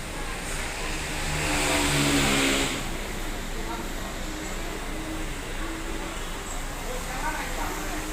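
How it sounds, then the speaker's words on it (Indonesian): A JRG night bus idles and revs at a bus pool in Medan before departure, a steady engine drone that swells briefly early on, with a voice talking over it. "Ini bus malam JRG yang siap berangkat."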